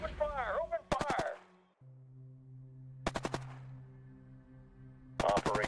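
Three bursts of rapid gunfire from units in the strategy video game Shadow Empire, sharp, rattling, evenly spaced over a low droning hum, with a voice briefly shouting before the first burst.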